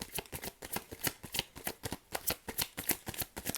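Tarot cards being shuffled close up in a steady, rapid riffling rhythm of crisp flaps, quiet and continuous throughout with no talking.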